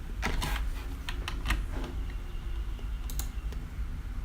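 HTML code being typed on a computer keyboard, a close run of quick key clicks that thins out into sparse taps over a low steady hum.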